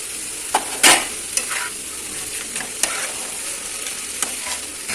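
Cabbage curry with nuts and raisins is stir-fried in a pan, with a soft continuous sizzle and intermittent sharp scrapes of a spatula against the metal.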